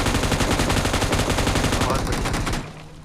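Rapid, dense gunfire rattles almost continuously through a shooting video game, loud and close, with bursts overlapping before cutting off abruptly near the end.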